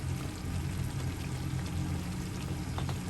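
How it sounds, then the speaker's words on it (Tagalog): Boiled water poured into a pot of adobo with bay leaves, a loud, steady splashing pour close by that runs continuously without speech. "pinakulo ang tubig para palambutin natin."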